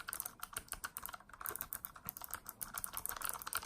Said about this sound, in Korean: 소리는 근데 진짜 청축 같은데